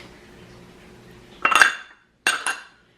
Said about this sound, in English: stir together the parsley, scallions, lemon zest, and 1 tablespoon of lemon juice